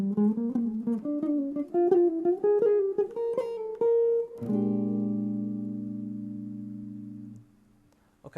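A solo instrument plays an arpeggio with chromatic approach notes at tempo: a quick rising run of distinct plucked notes, then a chord that rings on and slowly decays into silence.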